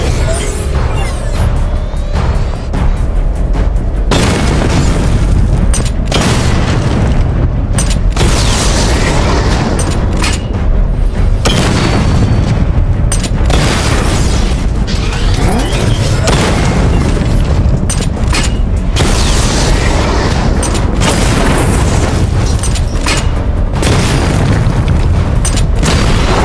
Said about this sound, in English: Charge the missile barrage to level 2 to destroy up to 4 targets at once.